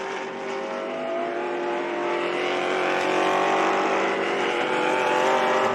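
Several vintage race cars, including a Porsche, roar past one after another at a racing event, a dense, loud wall of engine noise with no gaps and no voices.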